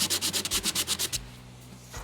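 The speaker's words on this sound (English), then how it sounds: "Let's sand this a little bit." Sanding a small wooden cube by hand for a boat-building project, a series of about nine rhythmic rasping strokes, close and fairly loud, then a quiet pause with a faint trailing scrape.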